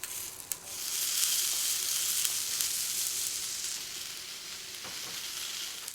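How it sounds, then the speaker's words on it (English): Tomato halves fry in oil in a hot pan, sizzling and crackling steadily, a dense hiss with a few sharper pops, no voices. "Heat a frying pan with some oil to a moderate heat and add the tomato halves one by one."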